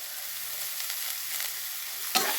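Coriander seeds and curry leaves roasting in oil give a soft, continuous crackling sizzle close by, ending in a single sharp knock of a utensil against the pan.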